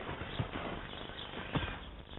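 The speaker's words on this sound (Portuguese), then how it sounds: "com o seu irmão António treinavam os seus cavalos" Lusitano horses in training for Portuguese mounted bullfighting, hooves clip-clopping at a walk on firm ground, two heavier hoof strikes standing out amid a steady rustling background.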